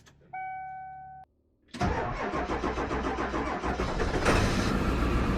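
A Ford 7.3 diesel truck engine, unstarted for several months, cold-cranks after a chime and then catches with a loud clattering rumble, settling into a steady, rough idle close by.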